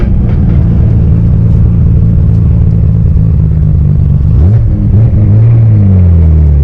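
Nissan Skyline R33 GTR engine roars loudly from inside the car as it accelerates, with a steady rumbling drone and a clear gear shift near the end followed by revs climbing again.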